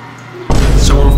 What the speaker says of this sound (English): Always flush with your foot.